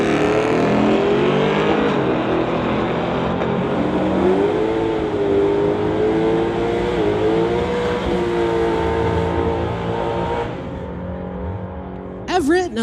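A 1972 Chevy Nova running a 364 drag races a 2018 Camaro at a street-legal event, loud engine roar climbing and wavering in pitch before dropping away, with a voice talking over it.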